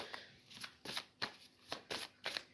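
Tarot cards are shuffled by hand for a reading in a series of about six quick, crisp riffling bursts at a fairly steady rhythm, close and fairly quiet, with no talking.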